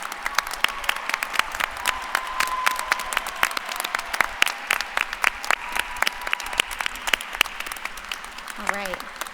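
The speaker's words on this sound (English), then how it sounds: "One more big round of applause for them." Audience applauding nursing graduates at a School of Nursing ceremony, steady sharp claps from a sizable crowd lasting several seconds, with a faint voice near the end.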